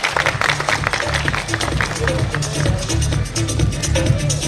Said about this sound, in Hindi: मैं ऑडियंस से चाहूंगा एक जोरदार तालियों से स्वागत करें सर का।